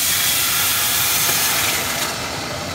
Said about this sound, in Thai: เสร็จหอมเรียบร้อยแล้วเราก็ใส่น้ำลงไปเลย